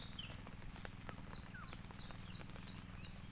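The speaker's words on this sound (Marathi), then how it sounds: "पक्ष्यांचा आवाज बघा आहे का" Birds calling outdoors over rice fields in the Konkan region during the monsoon planting season, several high chirps and short whistled calls scattered across the clip over a steady low background hum.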